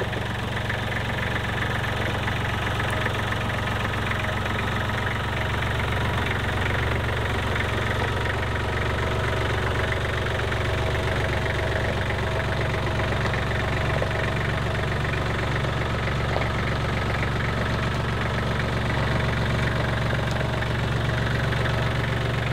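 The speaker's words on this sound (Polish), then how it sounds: "traktor chodzi" A tractor engine runs steadily and loudly, with a constant low rumble and rattling vibration that never lets up.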